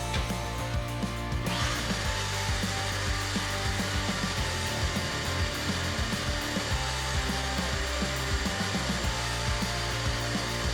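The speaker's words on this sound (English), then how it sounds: "Okay, give her a little vacuum." Vacuum pump pulling on an old Shovelhead motorcycle engine in a workshop, a loud, constant mechanical whine and hum that runs unbroken throughout, with a hiss that drops off in the first two seconds.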